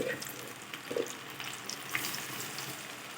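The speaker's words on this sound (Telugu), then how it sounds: "దీనిని కూడా సేమ్ అలాగే వేయించుకోవాలి" Pasta kurkure snacks fry in oil in a pan with a continuous close sizzle and crackle, broken by a few small pops and stirring clinks.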